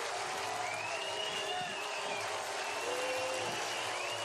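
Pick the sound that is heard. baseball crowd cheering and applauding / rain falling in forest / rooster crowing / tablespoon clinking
baseball crowd cheering and applauding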